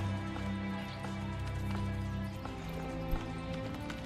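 Horse hooves clip-clop at a steady walking pace in the medieval game Manor Lords, faint beneath a low, rumbling game ambience and background music.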